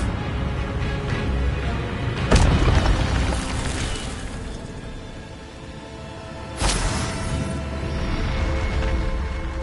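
The Incendio fire spell in Hogwarts Legacy on PS5 sounds as two loud whooshing bursts over dense game score and ambience, the first a few seconds in and the second later, each flaring briefly then fading.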